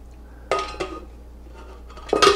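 Cooked potatoes being poured into a metal food mill set over a pan, giving a few sharp metallic clanks and knocks, with a louder clatter at the end in a quiet kitchen.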